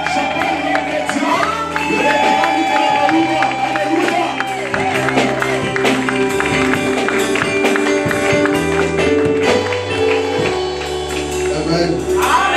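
A worship congregation cheers and acclaims over loud, sustained music with steady beats, voices shouting and whooping beneath the music throughout.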